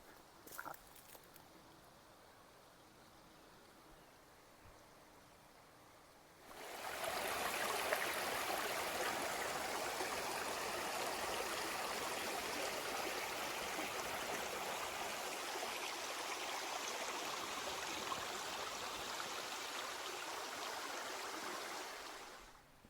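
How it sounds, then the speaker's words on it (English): Running water from a creek or river below a campground in Napa, a steady broadband rush that starts abruptly after a quieter opening stretch and keeps on unbroken, near and fairly loud. "sounds like a creek or a river down here."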